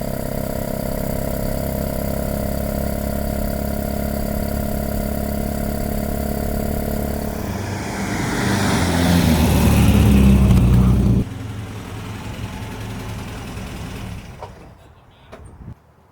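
A classic MG car engine runs on a drive through misty California scenery, a steady mid-pitched hum that swells into a louder rev, then drops back and fades toward the end.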